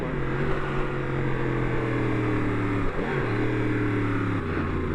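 A 2018 Yamaha R1 motorcycle engine runs up close with a loud, steady droning tone, its pitch dipping briefly around the middle before climbing and holding again, and no voices.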